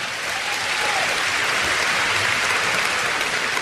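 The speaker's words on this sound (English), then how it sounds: "Give yourself a round of applause." Audience applause at a live comedy show before a large all-women crowd, a dense, steady wash of clapping that holds at full strength throughout.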